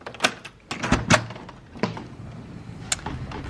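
A hotel terrace door is handled and pulled open: a few sharp knocks and latch clunks, then a scraping slide and a final click, close and fairly loud in a quiet room.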